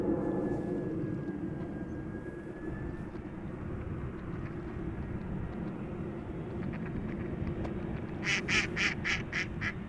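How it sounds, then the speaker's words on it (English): An EasyJet Airbus A319 from London Gatwick arrives at Amsterdam Schiphol. A broad, steady jet roar fills the scene, and a nearby duck quacks in a quick run of bursts near the end. "EasyJet A319 arriving from London Gatwick."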